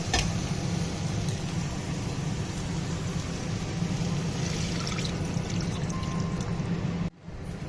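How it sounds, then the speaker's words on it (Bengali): Warm water is poured into a pan of sautéed masala for an egg curry, making a steady, close, continuous rush and splash that runs for about seven seconds before cutting off abruptly, with no talking. "এখন আমি এর মধ্যে দিয়ে দেবো সামান্য উষ্ণ গরম জল"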